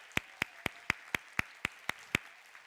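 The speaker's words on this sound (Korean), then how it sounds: "우리 박수로 환영해 주시기 바랍니다." A church congregation claps to welcome a visiting founding pastor. Nine sharp, evenly spaced claps come in a steady rhythm, close and distinct, with no voices over them.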